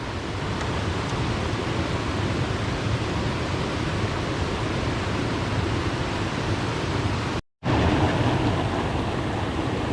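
Steady, dense rushing water from a waterfall in Thakhek, Khammouane, Laos fills the whole clip, a constant roar, briefly cutting out near the end before resuming.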